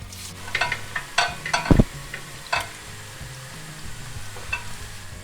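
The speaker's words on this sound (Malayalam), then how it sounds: "ഓയിൽ ഇപ്പോൾ നന്നായിട്ട് ചൂടായിട്ടുണ്ട്. നമുക്ക് ഈ കോളിഫ്ലവർ അതിലേക്ക് ഇട്ട് കൊടുക്കും ഓരോന്നായിട്ട്." Cauliflower florets for gobi manchurian dropped one by one into hot oil, giving a steady close sizzle with bursts of crackling and a few sharp splashes, no voices.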